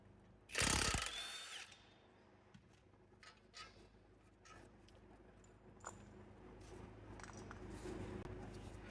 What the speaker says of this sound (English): we're just going to remove the two caliper bracket bolts and remove the caliper